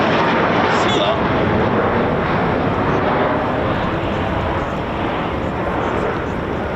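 Eurofighter Typhoon FGR4 fighter jets at RAF Coningsby make a heavy, continuous jet roar, loud and close, that dominates throughout while people speak under the noise.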